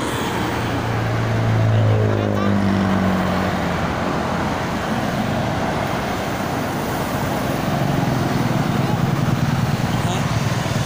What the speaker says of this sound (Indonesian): Oh, cuma motor, banyak motor.